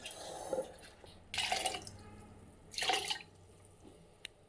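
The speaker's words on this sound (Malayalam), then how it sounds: "വെള്ളം ഒഴിച്ചു" Water poured over soaked green gram (moong) before grinding it into batter, heard as two short splashy bursts close by, with faint drips in between and no voices.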